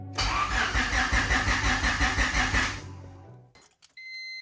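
A turbocharged Honda Civic engine cranks repeatedly in a rapid rhythmic whirr without catching, loud and close, then the starter stops and a few faint clicks and a steady electronic tone follow.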